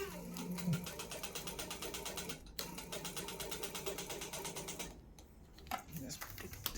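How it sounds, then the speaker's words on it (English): A sewing machine run by a repurposed 24-volt DC RO water pump motor whirs with a fast rhythmic mechanical clatter, stopping briefly twice before starting again, close and fairly quiet. "you can operate this motor swing machine using the RO motor pump"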